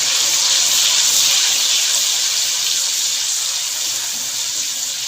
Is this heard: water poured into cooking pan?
yes